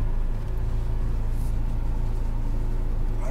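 A McLaren 570S sports car engine idles and pulls away slowly on a Las Vegas racetrack, a steady low rumble held close and even throughout, with no voices.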